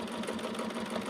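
A sewing machine stitches a T-shirt quilt just inside a fold, giving a brief, steady, fast-running whir heard close and fairly quiet.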